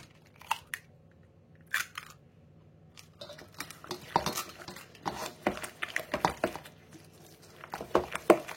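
A baking tin is lined for bara brith: intermittent metallic clinks and dry papery rustles, close by, growing busier and more frequent toward the end, with no talking.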